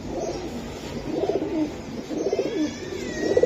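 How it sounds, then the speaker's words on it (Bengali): A male pigeon cooing up close, soft low rhythmic coos repeating about once a second, with quiet background noise and no speech. "এটা হচ্ছে নর কবুতরটা"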